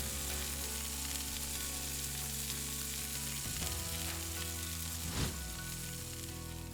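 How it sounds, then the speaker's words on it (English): Rabbit cacciatore with white wine and tomato bubbles in a pan over an open flame, giving a steady, close, continuous sizzle with a faint stir or shift about two-thirds through. "my white wine, my tomato, and then we're gonna let it simmer away"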